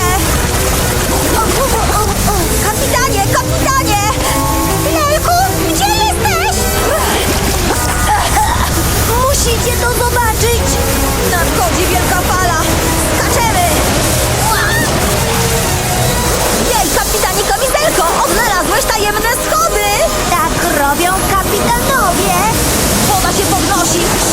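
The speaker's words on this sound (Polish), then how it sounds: "Woda się podnosi!" Loud rushing water churns and roars continuously, with high-pitched voices and squeals layered over it.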